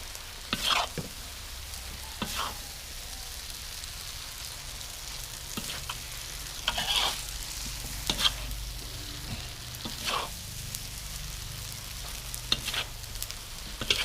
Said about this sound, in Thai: อันนี้สุกี้แห้ง ผัดเสียงมันนุ่ม